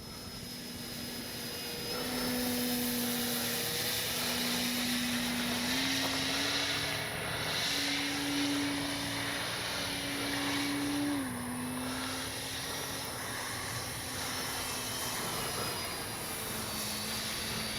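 E-flite SNJ-5 Texan RC model airplane flying with a steady propeller drone whose pitch rises and falls as it passes, moderately loud and continuous with no talk.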